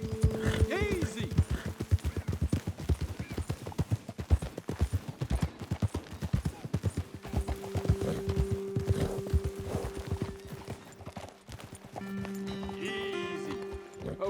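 Horses' hooves clip-clop steadily in the Red Dead Redemption 2 video game, a close rhythmic series of clops that slows and stops, with a horse whinnying and snorting and people talking over it.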